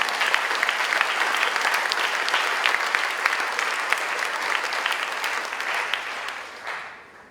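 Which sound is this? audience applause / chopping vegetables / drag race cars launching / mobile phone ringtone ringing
audience applause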